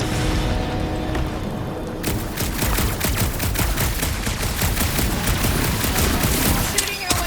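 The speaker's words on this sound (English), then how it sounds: "Shooting your way out of every problem again, Peter." Gunfire in Marvel's Guardians of the Galaxy video game on PS5: a sustained, loud barrage of rapid repeated shots with booming impacts running from about two seconds to the end, over an in-game background.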